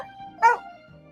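A dog barks once, a single sharp and fairly loud bark standing out over a low, steady background hum, with no talking.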